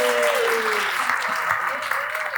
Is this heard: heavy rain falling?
no